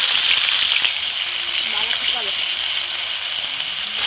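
Four chillies, cardamom, cinnamon and ginger fry in hot oil in a wok, a steady dense sizzle that stays close and continuous throughout.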